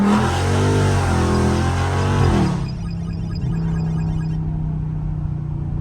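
A catless Scat Pack car engine roars loudly as it accelerates in traffic, then the noise drops off abruptly, leaving a steady low rumble of engine and traffic.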